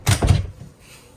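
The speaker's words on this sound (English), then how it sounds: "to shut the shower door, you just pull this little lever up," A shower door on a 2025 Swift Voyager 510 caravan is pulled shut with two quick close thuds, followed by a short fading rattle, heard close and alone.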